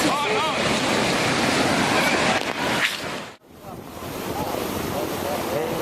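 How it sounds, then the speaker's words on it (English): Tsunami surge pouring into a California port, with a heavy continuous roar of churning water and wind buffeting the microphone, briefly dipping before the rush resumes. "This tsunami that hit California was caused by an earthquake off the coast of Japan."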